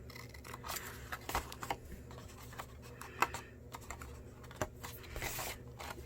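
Scissors snip through paper tabs along a scored line while making a treat box, giving a series of short, close crisp cuts with small rustles between them.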